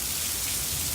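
Warm, heavy rain pours down in a dense, steady hiss of countless drops striking surfaces, loud and close with no pauses, and no voices are heard.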